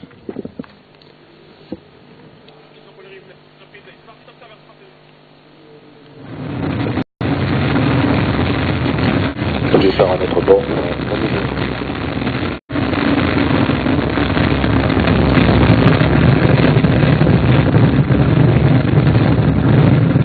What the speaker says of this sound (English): Those mighty engines, 5 tons of fuel burning per second, lifting her out of the atmosphere, away from the Earth's gravity